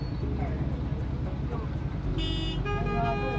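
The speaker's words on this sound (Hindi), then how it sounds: "कागान पहुंच गए हैं जी, और ट्रैफिक जैम है कागान में" Traffic jam on the main road in Kaghan, with a steady rumble of car engines and several horn toots in the last second, the honks overlapping under ongoing road noise.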